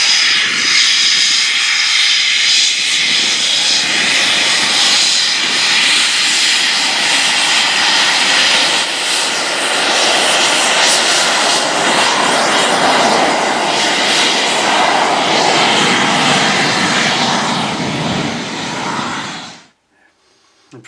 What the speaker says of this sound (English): But the two-seater Eurofighter is a mighty machine.